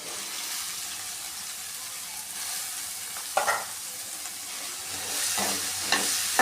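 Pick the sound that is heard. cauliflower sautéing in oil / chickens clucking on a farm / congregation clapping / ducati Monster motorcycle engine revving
cauliflower sautéing in oil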